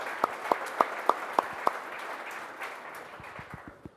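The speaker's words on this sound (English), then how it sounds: "Round of applause," Crowd applause for the hosts at the Road America race track during an IMSA series gathering, a steady wash of clapping with a few louder close hand claps rhythmically punctuating it early on.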